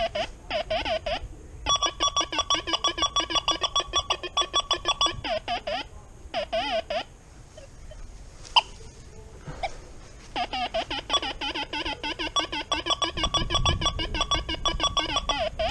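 An XP Deus II metal detector set to square pitch gives rapid, pulsing electronic target tones in bursts, with brief pauses and a faint rustle of sweeping over ground near the end; no talk.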